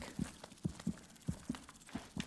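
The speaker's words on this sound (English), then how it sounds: "What's with this heartbeat noise?" Low, steady heartbeat thumps from an egg sac in Hollow Knight, pairs of soft muffled beats repeating about every half second, close and alone without speech.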